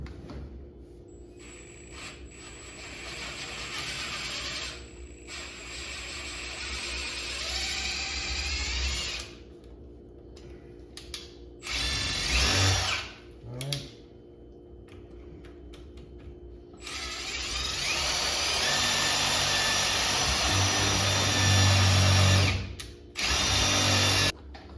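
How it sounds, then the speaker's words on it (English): A power drill whines in bursts while drilling out part of an Xtend+Climb telescoping ladder, with close, loud runs separated by pauses and mechanical clatter. "All right, so we'll try drilling out first."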